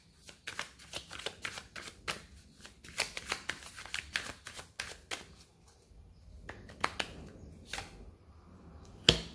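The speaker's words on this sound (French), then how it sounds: "on va prendre une carte, une dernière carte de conclusion au milieu" Tarot cards being handled and drawn from a deck during a reading: a long run of crisp, rapid card flicks and shuffling slaps, close and fairly quiet, easing into softer rustles before a final sharp snap.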